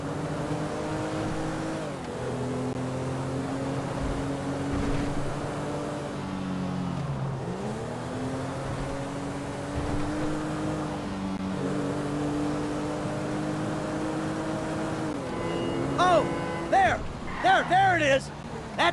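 A motorboat engine races in the GTA V video game, a sustained droning whine that rises and falls in pitch as it revs, with brief higher-pitched wavering bursts near the end.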